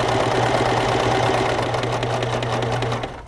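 Sewing machine stitching a capitonê tire-shaped cushion with copo-de-leite stitching, running steadily and close with a continuous whirring hum and rapid needle rhythm, then easing off at the end.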